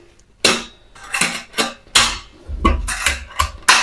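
Metal parts of a cow milking machine being set and clanked into place, the jar going on top: a quick series of sharp, close metallic knocks and rattles with brief gaps, no talking.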